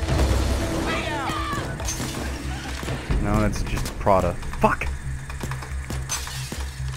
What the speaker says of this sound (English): I'm stabbing the shit out of this glass.